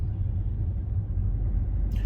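Low, steady road rumble inside a moving car, a constant droning engine-and-tyre hum with a brief faint higher noise at the end.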